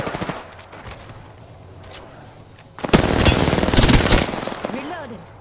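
Video game gunfire rattles in rapid automatic bursts, with sparse shots first and then a loud, dense volley in the middle. Speech is mixed in.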